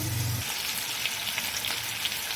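Chicken pieces fry in a pan for Hyderabadi biryani, a steady close sizzle and crackle that runs throughout, with a short low hum at the very start.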